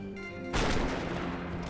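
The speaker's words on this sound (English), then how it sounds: "Oh, this dude's just shooting anybody." Gunfire in the video game Max Payne 3: a loud burst of shots erupts abruptly after a quieter opening and leaves a dense, sustained crackling wash that stays strong to the end, with no talk.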